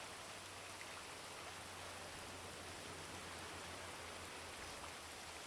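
Rain pours in GTA V on a NoPixel server, an unbroken broadband hiss of drops striking surfaces, even and close throughout with no voices over it.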